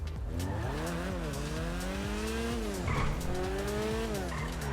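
Car driving in GTA Online, its game engine holding a steady drone that rises and falls with gear changes, with tire squeals and skidding sounds through the whole clip, loud and close.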